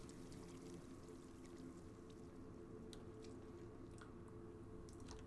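A character drinking water in the video game Sherlock Holmes The Devil's Daughter, heard as faint, wet gulping and pouring sounds over a steady low background hum, with no talking.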